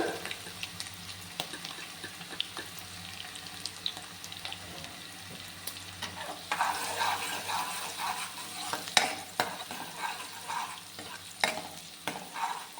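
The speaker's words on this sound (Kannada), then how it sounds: "ಇದನ್ನು ಸ್ವಲ್ಪ ನೀಟಾಗಿ ಫ್ರೈ ಮಾಡ್ಕೊಳ್ಳೋಣ. ಇದಕ್ಕೆ ಸ್ವಲ್ಪ ಅರಿಶಿನ ಪುಡಿ ಹಾಕ್ಕೊಳ್ಳೋಣ." Food fries in a pan as turmeric powder goes in, a soft steady sizzle with scraping stirs and occasional clinks, moderately close with no talk.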